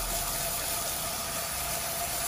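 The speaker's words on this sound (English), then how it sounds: "Get the hose, pop it in the toilet there, turn it on, just to give it enough to give it a bit of a rinse out." A garden hose runs water steadily into a caravan cassette toilet for a rinse, a constant close rushing hiss with no breaks.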